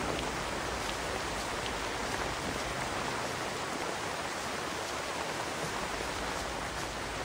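Steady dense rain in the video game Yandere School, a constant even hiss of falling water with no breaks and no voices.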